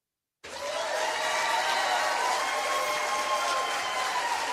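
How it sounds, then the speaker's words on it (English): A live audience gives itself a round of applause, a steady, dense wash of many hands clapping that starts abruptly and holds at full strength throughout, with no talk over it. "let's give ourselves a round of applause"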